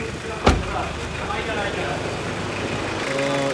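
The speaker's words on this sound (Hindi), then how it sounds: "ये देख सकते हैं जी गाड़ी का इंजन स्टार्ट है अभी बिल्कुल, और इसका साउंड भी देख लें।" A Toyota Corolla 2.0D (CE120) diesel engine idles steadily with a low, even rumble, marked by a sharp knock near the start and a faint tonal whine toward the end.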